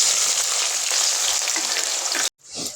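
Onions fry in hot oil in a kadhai with a loud, steady crackling sizzle that cuts off abruptly, then briefly resumes more softly.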